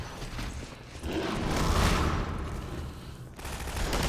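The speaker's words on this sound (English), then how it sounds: "And we're hearing distant gunfire." Distant gunfire in the video game Life by Half: faint, rolling bursts of shots that swell in the middle and ease off, with nobody talking.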